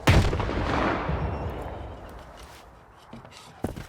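A grenade blast in the game S.T.A.L.K.E.R. 2: Heart of Chornobyl opens with a loud, close boom whose rumble slowly fades over several seconds, followed by a few faint sharp reports.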